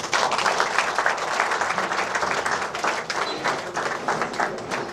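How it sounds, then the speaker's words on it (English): Steady audience applause at the close of a talk on rethinking critical thinking, a dense even patter of many hands lasting several seconds with no voices over it. "Please let's keep the applause for"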